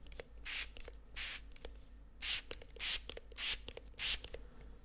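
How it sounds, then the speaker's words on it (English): Spray bottle misting hair in a close, quiet setting: about seven soft hissing sprays in an irregular rhythm, the later ones longer and louder, with faint handling sounds between them and no talk. "I just gently spray your hair, and I'll do like every barber."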